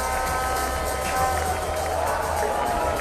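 Broad roar of a stadium crowd at a cricket match at Queens Sports Club, sustained and steady throughout with a slight swell midway, heard from a distance as a continuous wash of noise.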